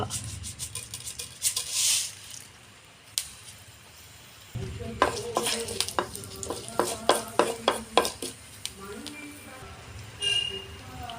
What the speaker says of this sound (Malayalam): കടുകിട്ട് ഇട്ട് കൊടുക്കുന്നു കറിവേപ്പില ഇടുന്നു കുറച്ച് ഉലുവ